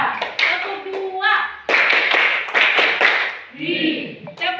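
Classroom of students clapping together on their teacher's cue, a cluster of loud, close claps in a few bursts, with a voice and children's voices before and after.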